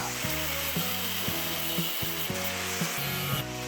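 Angle grinder cutting a 600mm floor tile on a balcony, working the cut from the flipped side; a loud, close grinding whine in short repeated passes of about half a second each, with no talk.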